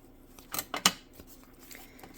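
Scissors trim paper for a layered envelope: a quick run of three or four crisp snips close by, then quiet, with no talking.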